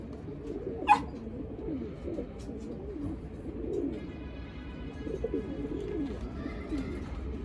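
A pigeon coos in a loft, soft low burbling calls repeating under a quiet room background, with a brief sharp click near the start and faint chirps later.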